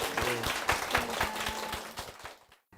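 Church congregation clapping together in a warm, moderately loud round of applause that carries along evenly, then tapers off and stops abruptly.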